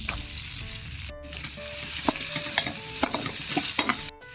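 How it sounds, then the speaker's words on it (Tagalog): Garlic and onion sauté in a pan with a close, steady sizzle, punctuated by sharp scraping stirs and a couple of brief pauses in the hiss. "Magigisa na tayo mga tambay."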